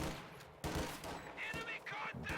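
Bursts of gunfire crackle from fighting in Company of Heroes 2, rapid overlapping shots at moderate distance under a commentator's talking.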